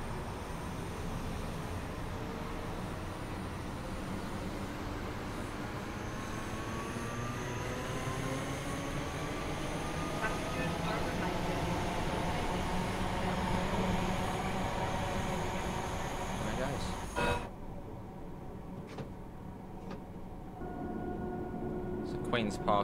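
A six-coach Class 314 electric train on the Glasgow Cathcart Circle in Train Sim World 4 departs with a steady rumble and rising motor whine that builds over about twenty seconds, then cuts abruptly to quieter ambience.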